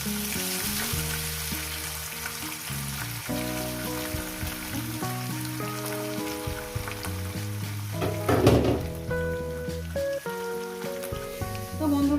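Mola fish frying in hot oil with potato and onion makes a dense, steady sizzle with crackling spits, heard close under continuous background music.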